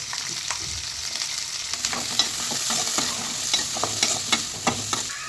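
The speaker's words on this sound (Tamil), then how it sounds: "தேவையான அளவு இஞ்சியும் பூண்டும் சீவி வச்சுருக்கோம் அது போட்டுக்கலாம்" Shallots, ginger and garlic fry in hot oil, a continuous sizzle punctuated by repeated clinks and scrapes of a spoon stirring against the pan, fairly close and clear.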